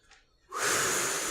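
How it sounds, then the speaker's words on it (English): A slow breath drawn in through the nose, close and airy, rising sharply after a short quiet and holding as a steady hissing inhale. "If you take a normal breath in through the nose, and then do that 3 or 4 times."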